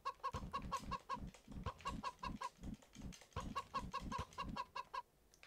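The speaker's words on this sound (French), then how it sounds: "Allez, on va voir les poules." Hens cluck in a steady repeating pattern of short, close calls, one after another in regular rhythm, moderately quiet with no one talking.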